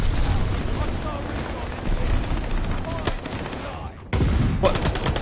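Shotgun fire in Call of Duty Vanguard: several sharp booming shots, with a distinct blast around three seconds and another after a brief drop near four seconds, over busy game noise and a voice.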